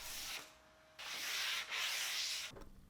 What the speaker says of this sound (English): there were a few edges that needed some additional sanding and attention